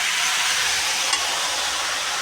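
Greens and vegetables fry in a pan while being stirred, giving a steady, loud, close sizzle and hiss throughout, with a faint scrape of the spoon partway through.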